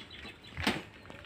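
A pigeon lands at a loft with a brief, close burst of flapping wings lasting about a second against quiet background noise.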